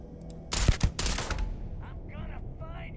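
A suppressed fully automatic rifle with a long barrel fires in the video game Starfield: two quick bursts of sharp reports up close, then fading echoes and faint distant game sounds.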